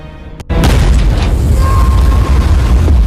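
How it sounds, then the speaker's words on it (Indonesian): A sudden, loud grenade explosion in a film, a boom after a brief near-silence, followed by a sustained rumbling roar that keeps going to the end. "Ketika melihat tubuh Jesse yang ambyar akibat ledakan granat"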